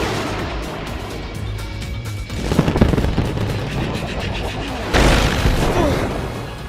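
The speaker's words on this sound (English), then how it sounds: "Okay, we'll go with missiles then." Missiles launching in animated aerial combat: rapid bursts of booming blasts and crackling fire, loud and dense, with a heavier surge of explosions near the end.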